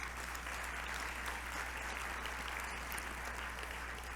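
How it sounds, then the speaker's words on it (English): An audience at a charity anniversary gala claps steadily in a dense, even round of applause, faint and distant, with no voices over it. "Let's give him a round of applause"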